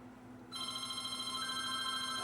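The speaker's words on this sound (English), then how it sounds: "my wife's got the phone." A telephone bell starts ringing about half a second in, a sustained electronic trill that continues loud and steady to the end over a quiet room hum.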